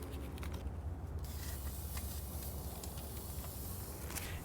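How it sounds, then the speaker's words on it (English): A salted and peppered stuffed cheeseburger patty on a Pit Barrel Cooker sizzles with a steady, close hiss, with a few faint crackles and pops over it. "You can hear that sizzle."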